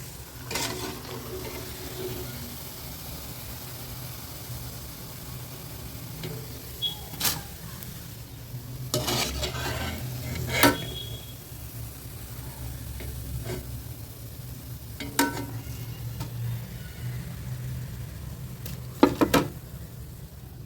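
Carrot vadas fry in hot oil in a home kitchen, giving a steady close sizzle and bubbling broken by occasional louder scrapes and stirs, with no talking.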